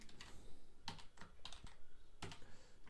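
Rapid typing on a computer keyboard while entering a Python print statement, with clustered, uneven keystrokes and a few louder key presses, close and clear with no talking.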